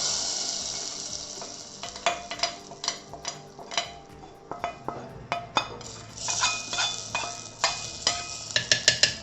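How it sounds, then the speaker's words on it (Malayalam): Onions fry and sizzle in a pan for cherupayar malar kanji, a green gram and puffed rice porridge. A utensil scrapes and clinks against the pan in an irregular stirring rhythm, close by, with no talk. "ഉള്ളിയൊക്കെ നന്നായിട്ട് മൂത്തിട്ടുണ്ട്."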